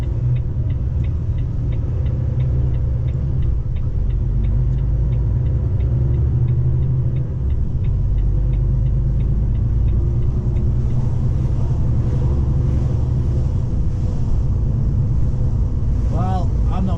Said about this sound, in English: You'll see how long this traffic jam is.